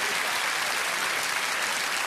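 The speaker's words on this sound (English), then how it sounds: "Round of applause," A large studio audience at a Christmas comedy show applauds in a dense, steady burst of clapping.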